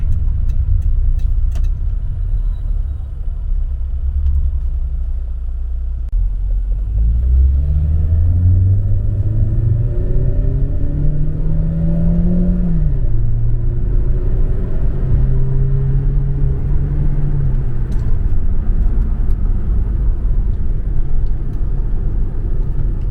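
Toyota Camry running on LPG gas injection accelerating on the road, a steady interior rumble with engine tone rising through gears over about twenty seconds, moderate pedal, no talk.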